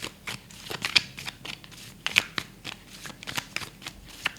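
Tarot cards shuffled by hand during a Hindi reading, giving a steady run of close, crisp riffling and slapping bursts with short pauses and no talking.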